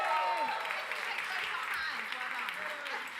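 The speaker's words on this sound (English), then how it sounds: "Massive round of applause." Audience applause for a prize winner called up at a freelancer-economy debate event, a dense, steady wash of clapping throughout with some voices faintly mixed in.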